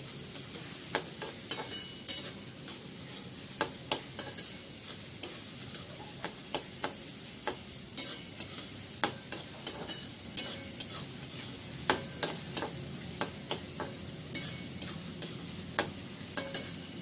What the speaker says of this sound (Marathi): कांदा बदामी होईपर्यंत परतत राहायचंय.